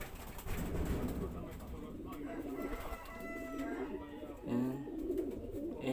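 Pigeons, including a blue bar hen, coo repeatedly in a loft holding newly arrived Taiwan birds, a low steady murmur running throughout while someone talks over them nearby.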